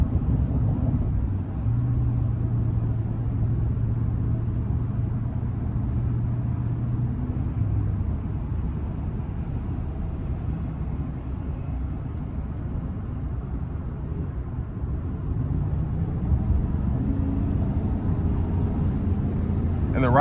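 Full-size 2024 Chevrolet Silverado 1500 RST Z71 pickup with a 5.3-litre V8 cruising on an interstate, a steady low engine and road rumble filling the cabin without a break.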